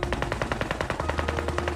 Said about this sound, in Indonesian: musuh mulai menembakkan senjata mesinnya